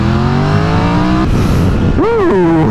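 A 2022 Triumph Tiger 1200 Rally Explorer motorcycle accelerating hard on a B-road. The engine note rises loud and close, drops briefly at a gear change, then climbs sharply again with strong revving harmonics.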